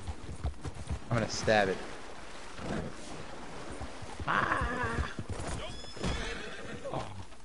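Horse whinnying and hoofbeats in Red Dead Redemption 2, with several loud, shrill neighs rising over clopping hooves while someone talks throughout.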